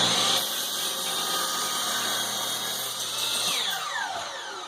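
A DeWalt DW715 miter saw cuts through a block of wood with a loud, sustained whine that dips as the blade finishes and spins down near the end.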